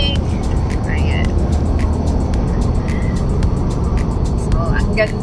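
Road traffic surrounds a car on a drive in Penang, Malaysia: a steady, loud rumble of engines and tyre noise fills the whole stretch, with faint higher chirps and squeaks scattered over it.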